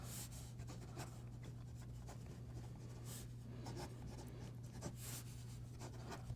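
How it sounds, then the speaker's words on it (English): An OLight O Pen 3 writing on paper gives a quiet, continuous scratchy rubbing with faint rhythmic strokes under a low steady hum, close up and with no talk. "this pen writes extremely well"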